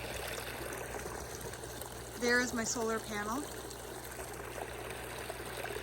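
Steady trickling water from a solar-powered garden water feature runs continuously, with birds audible nearby; someone speaks briefly partway through over the soft flowing sound.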